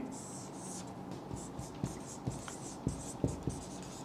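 Writing on a board during a chemistry lecture, a series of soft scratchy strokes and several distinct taps as the marker or chalk meets the surface, faint and close, with quiet voice fragments in the background.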